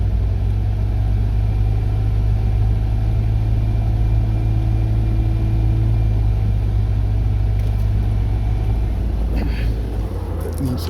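A car engine holds steady at about 2,000 RPM with an audible catalytic converter rattle, a continuous close low rumble throughout, and a brief shift near the end.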